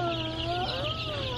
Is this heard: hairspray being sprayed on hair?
no